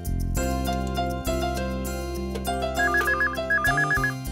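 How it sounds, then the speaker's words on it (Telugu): A telephone rings with a melodic electronic ringtone, a bright repeating tune over a steady musical backing, close and clear with no talk. "ఆ ఫోన్ ఏంటో కాస్త చూడమ్మా"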